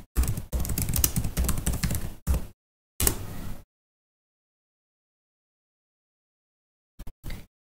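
Typing on a computer keyboard in a dense two-second run of rapid key clicks, then a short burst, a brief pause and more keys, with a couple of isolated taps after a silence.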